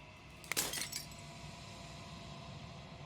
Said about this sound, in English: As a final fragment of glass shatters